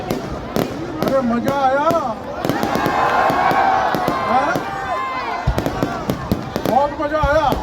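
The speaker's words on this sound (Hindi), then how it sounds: "अब होगी यहाँ दशहरा मैदान में आतिशबाजी शुरू" Fireworks bursting over a Dussehra ground during a city foundation-day celebration, a string of sharp cracks and pops scattered through the stretch, mixed with crowd noise, music and excited talk in Hindi.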